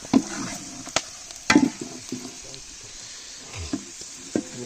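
Chicken curry masala fries in a pan at a riverside cookout, a soft sizzle broken by scattered stirring knocks and scrapes, with faint voices nearby.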